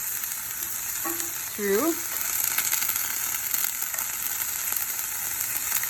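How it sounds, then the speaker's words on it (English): Blanched milkweed and mushrooms sautéing in a pan give a steady, close hiss of sizzling oil that runs the whole time, with a brief voice and a few utensil scrapes near the start. "I'm just going to add that and saute it quickly with the mushrooms to get them cooked"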